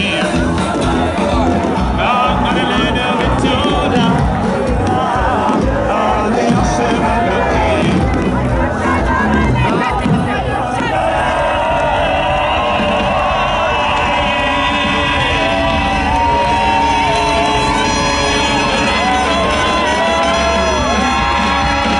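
A large crowd at a Shabbat Project gathering cheers and whoops loudly and continuously, with dense babble and shouting that settles into a steadier roar of many voices.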